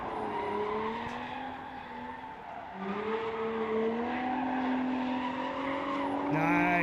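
A BMW and a Nissan 350Z drifting on a race track make a sustained, wavering tire squeal over engine drone at a distance, with pitch shifting as the cars slide.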